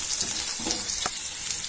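Crushed garlic cloves and curry leaves frying in hot oil, a steady close sizzle with soft crackles running throughout, no voices.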